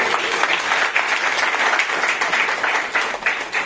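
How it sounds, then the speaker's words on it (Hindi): Loud, steady applause from an audience welcoming a new chairman at an enterprise gathering in Varanasi, dense clapping sustained throughout without any talk. "भाई तालियां होनी चाहिए जोरदार"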